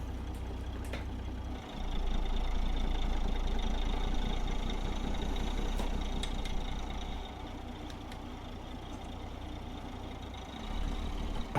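A truck with a 2000+ hp engine mod and an 18-speed transmission in American Truck Simulator: a deep, steady engine rumble that swells, eases back, then rises again near the end.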